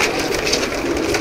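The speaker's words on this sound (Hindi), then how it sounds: "ये देखिए भाई, तांबड़ा कबूतर लिया में एकदम खड़ी ठाट में, ये भी कबूतर भाई" Pigeons in a loft coo close by, soft throaty calls over a dense, steady background of flock noise and rustling.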